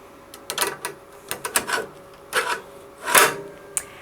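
An embroidery hoop is fitted onto a Melco embroidery machine, giving close, scraping and clicking sounds of plastic and fabric in several short bursts separated by pauses.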